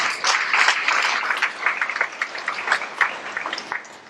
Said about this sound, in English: I think you need to give him a round of applause for that